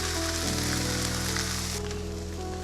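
Diced onions seasoned with a pinch of salt fry in a pan for sweet potato black bean hash, a steady close sizzle and crackle holding level throughout with no talking.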